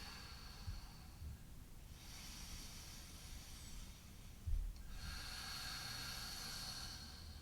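Slow deep breathing during a low lunge stretch: two long airy hissing breaths, each lasting a couple of seconds, close and fairly loud, with a soft sniff between them.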